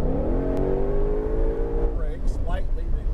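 A car accelerates hard at full throttle on a race track, engine note rising steadily and loud close by, then dropping as it shifts, with a driving instructor talking over it.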